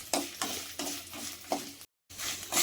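Red chillies fry in a pan for a curry-leaf tomato chutney, giving a close broadband sizzle with repeated stirring bursts, a brief silent gap, then more frying.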